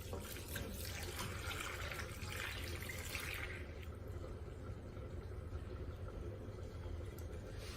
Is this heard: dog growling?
no